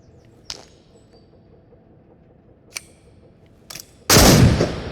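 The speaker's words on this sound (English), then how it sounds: "Yep, hunting shotgun, yep." A hunting shotgun in the VR game Into the Radius fires one loud, close blast near the end, after a few faint clicks and handling taps, and the shot trails off with a short echoing decay.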